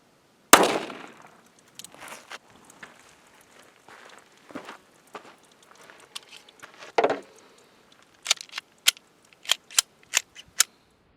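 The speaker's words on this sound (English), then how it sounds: "We'll be shooting at this 5-pound block of clay using a 380, more specifically a Smith & Wesson Bodyguard 380." A Smith & Wesson Bodyguard 380 fires 90-grain Hornady Critical Defense rounds into a 5-pound clay block outdoors: one loud, sharp report, scattered light clicks and thumps, another bang, then a rapid string of sharp cracks at the end.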